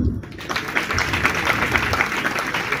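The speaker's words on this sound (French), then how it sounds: "On applaudit." Applause from the congregation at a celebration honouring a monseigneur's 90th birthday and 45 years as bishop, a dense, steady wash of clapping with some voices mixed in.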